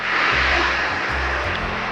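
Steady engine drone of a Stinson 108-3 Voyager vintage light airplane, a continuous loud, close hum with low pulsing throughout, no speech.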